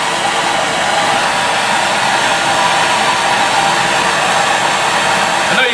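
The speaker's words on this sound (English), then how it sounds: "So let's fire up the torch." A torch flame roaring continuously while heating the corner of a metal hollowing tool held in a vise, a loud, even hiss that holds steady throughout.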